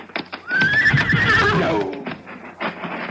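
A spirited, unruly horse gives a loud, close whinny that rises and then trails downward, with hoof clip-clops heard before and after it and no talking.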